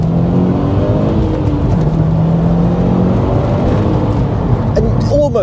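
A Subaru Impreza STI Spec C in sports mode pulls hard under acceleration, a steady, loud engine drone with rising whine heard from inside the car, and someone talking over it throughout.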